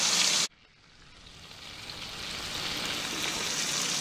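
Fish for Hanoi cha ca la vong frying in a pan, a loud burst that drops off at once, then a steady hiss that slowly builds and keeps going with no talk over it.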